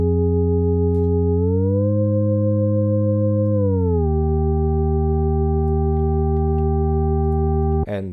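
A sustained synth chord with rich harmonics bends its pitch up, holds, then dips down again over about eight seconds, ending with a short click. It plays alone with no voices.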